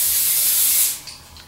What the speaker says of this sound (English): So our first step is to grease our casserole dish with cooking spray.